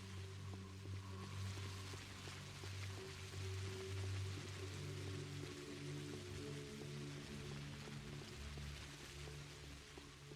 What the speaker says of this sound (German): Ich höre, dass es regnet, aber ich sehe den Regen nicht mehr.